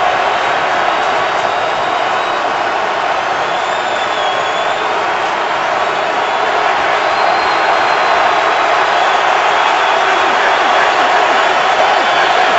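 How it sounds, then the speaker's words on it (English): Continuous loud roar of a packed stadium crowd at an NFL football game between the Ravens and Steelers, a steady wall of voices sustained without a break. "Crowd in full throat."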